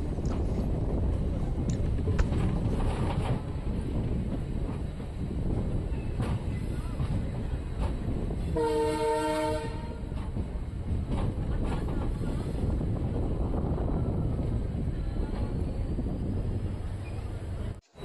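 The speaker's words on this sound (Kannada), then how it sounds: "ನಮ್ಮ ಟ್ರೈನ್ ಈಗ ಕೊಟ್ಟೂರು ರೈಲ್ವೆ ಸ್ಟೇಷನ್ಗೆ ಎಂಟ್ರಿ ಆಗ್ತಿದೆ" A DEMU train rolls into Kotturu railway station at platform 1, a loud, steady rumble of running gear and wind buffeting throughout, with a brief horn-like tonal blast midway and no clear talk.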